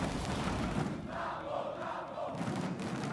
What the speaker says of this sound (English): Listen to the crowd just cheering.